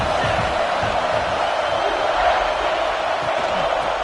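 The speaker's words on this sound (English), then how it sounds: "this crowd is turning it up a notch" A football stadium crowd roars in a broad, steady wash of cheering between plays, dense and loud throughout, with a commentator's voice faintly mixed in.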